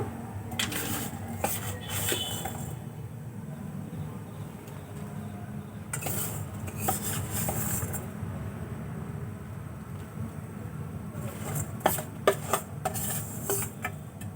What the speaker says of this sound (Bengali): গুড় দিয়ে আমি খুব ভালো করে মিশিয়ে দেব, হালকা হাতে নেড়ে দেব।